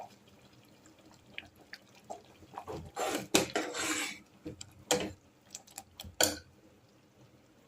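Hot red chilli and cumin tempering is poured into Hyderabad khatti dal, producing short bursts of sizzle and crackle with a few drips and clinks, loudest in the middle, close by and fairly quiet overall.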